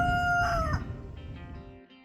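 A rooster in a park gives one clear, loud crow whose tonal call rises and then falls away, followed by softer fowl sounds and light background noise.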